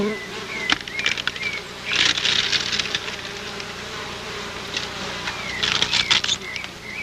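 Native Brazilian stingless bees buzz around a wooden hive box, a steady close hum with louder bursts of wingbeats as bees fly near, plus faint handling knocks.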